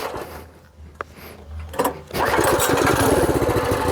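A homemade motorbike engine bursts to life after quiet knocks and clatter, then revs hard at full throttle with a loud, steady, buzzing roar close by.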